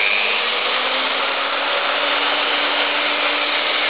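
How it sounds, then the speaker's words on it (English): An electric drill runs continuously near an electromagnetic field meter, a steady, loud motor whine with a constant buzzing tone and no pauses, heard alone without voices. "And now I'm going to start the driller."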